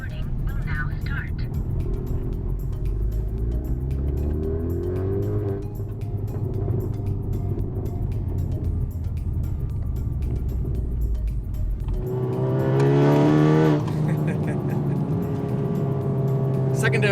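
A Honda Civic Type R FK8 with a Remus turbo-back exhaust and catless downpipe drones and rumbles steadily from the cabin while driving, with rising engine pitch and one brief louder rev near the end, under a person talking.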